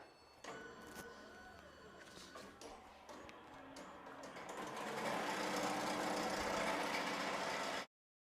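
Embroidery machine stitching an appliqué tack-down on a sweatshirt, a rapid mechanical clatter that starts after a few clicks and builds to a loud, dense steady whir before cutting off.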